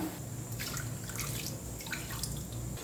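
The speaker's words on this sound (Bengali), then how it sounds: "এবার এর মধ্যে জল দিয়ে দেব আমি এক কাপ পরিমাণ সুজি নিয়েছি তাই জল দিয়ে দিচ্ছি দু কাপ" Water poured into dry-roasted semolina in a pan, a steady close hiss and gurgle with bubbling and sizzling as the liquid hits the hot grains, continuous throughout.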